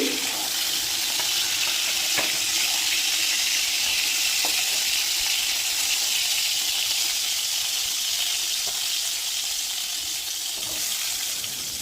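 Cauliflower florets frying in hot oil in a home kitchen, a steady dense sizzle that holds evenly throughout, close and moderately loud with occasional faint clinks of a utensil.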